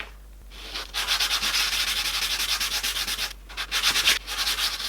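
Sandpaper at 240 grit rubbing across a resin and wood pendant, steady scratchy strokes in a quick even rhythm, close and clear, pausing briefly twice before resuming.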